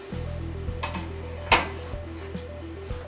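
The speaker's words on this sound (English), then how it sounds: "it's time to put the pot on the stove" A metal pot set down on a kitchen stove while mac and cheese with tuna is being made: one sharp, bright clank stands out over a steady low hum, with a few softer knocks around it.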